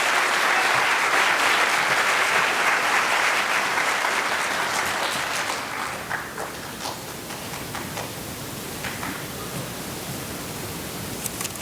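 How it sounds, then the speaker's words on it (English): Loud, dense applause from an audience at a high school Black History Month celebration, steady for several seconds and then thinning to scattered, fading claps. "can we clap it up for Dr."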